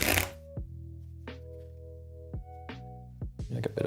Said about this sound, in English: I'll give these one more shuffle.